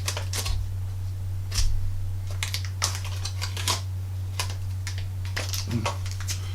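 Low-tack masking tape peels off a plastic scale model aircraft in a series of short, crisp ripping and ticking bursts over a steady low electrical hum.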